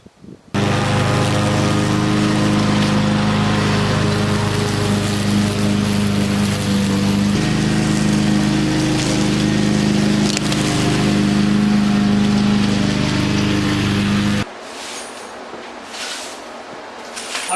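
A riding lawn mower engine drones steadily and loudly while cutting thick clover in a farmhouse yard, holding an even pitch for about fourteen seconds before cutting out to quieter background.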